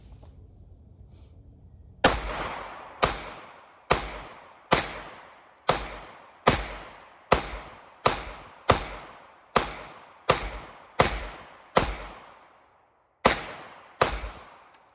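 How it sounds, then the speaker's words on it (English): Springfield Echelon pistol firing hollow point rounds outdoors, about fourteen sharp, loud shots in a steady rapid rhythm, each with a short decaying echo, with no talking. "So let's see how good it shoots the hollow points."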